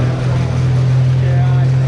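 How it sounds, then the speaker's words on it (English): A John Deere 8370R pro stock pulling tractor named No Limit at a Monticello, Iowa pull, a loud steady droning engine with a strong low hum, announcer talk over it. "John Deere 8370R, the tractor called No Limit"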